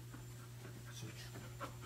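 A bed bug detection dog breathes in soft, quick pants in an indoor room during a training search. The sound is close and faint under a steady low hum, and the burst is brief.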